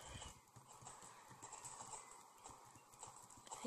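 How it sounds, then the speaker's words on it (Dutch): Hooves clip-clop steadily from a horse in a video game, a faint, even rhythm with a possible brief whinny mixed in. "Een niet goed springend paard."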